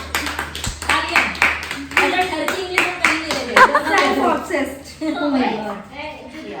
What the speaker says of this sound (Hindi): इसको मेरे लिए ताली बजानी चाहिए